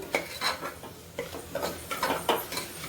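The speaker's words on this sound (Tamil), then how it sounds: "நல்லா கிண்டி விட்டுக்கலாம்." Food being stirred in a cooking pan for a beetroot rice dish, the spoon scraping and clinking against the metal in a quick irregular rhythm, close and fairly loud.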